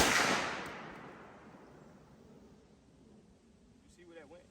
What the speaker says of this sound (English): these are really the first shots on my ARP